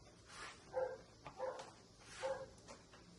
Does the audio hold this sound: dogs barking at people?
yes